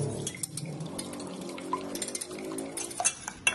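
Two eggs being whisked in a bowl for a butterfly pea pudding, a quiet run of quick clinking taps of utensil against the bowl that speeds up toward the end.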